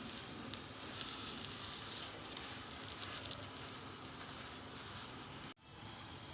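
Pav bread buns frying in butter in a pan, giving a steady, close sizzle that holds for several seconds, with a brief break near the end before it picks up again.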